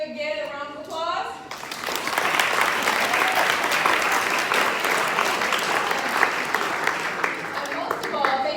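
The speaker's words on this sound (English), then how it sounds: "A round of applause." An audience at a chess club's annual team awards ceremony at the Detroit Institute of Arts breaks into sustained applause after a brief voice, and the steady clapping fills the room.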